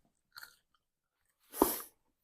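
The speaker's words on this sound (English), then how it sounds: "We picking up that crunch on the microphone? Because it's crunchy." Crunchy fried fish is bitten and chewed close to the microphone, two separate crisp crunches, a short soft one followed by a louder, longer crackling bite, with silence between.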